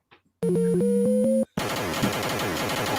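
Chiptune-style sounds from an arcade zoo game: a short stepped electronic melody of beeping tones, then a dense, noisy burst of busy game effects and music.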